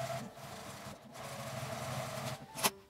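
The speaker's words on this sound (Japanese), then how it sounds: "表布の下の方に端ミシンをかけます。" Sewing machine topstitching near the edge of an outer fabric panel for an insulated lunch bag, a steady close whirring run with a brief pause near one second and a sharp click near the end.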